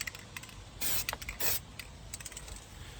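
An aerosol spray paint can fired outdoors while painting custom armor rails for a Yaesu FT-857 radio: two short, loud hissing bursts stand out over a quieter background of light clicks and rustle.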